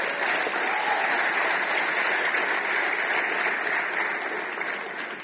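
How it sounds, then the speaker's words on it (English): Conference audience applauding steadily as a dense, sustained wash of clapping for about five seconds, loud and unbroken with no talk over it, easing only slightly at the very end. "I hope you can clap more than that."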